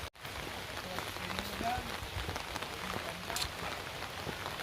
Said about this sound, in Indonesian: Cuman di sini sekarang lagi gerimis.